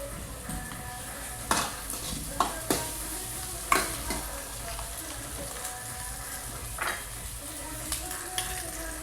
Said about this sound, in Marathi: हे जे बेटर मिक्सर केलेलं होतं ते आपण आता याच्यात टाकून घेतलेलं आहे